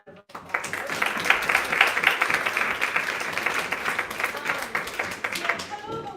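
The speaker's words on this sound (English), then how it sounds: "So can we please give them a round of applause?" At a chamber music concert, an audience applauds music teachers, clapping swelling quickly from near silence into a full, steady round of many hands, fading slightly near the end as a voice begins.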